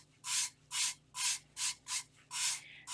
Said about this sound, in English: You can rub it back and forth.